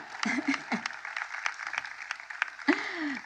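Crowd applause breaks out during a political speech at the anniversary of the MLK Memorial dedication, a steady wash of clapping with brief vocal bursts from the audience and a short voice near the end.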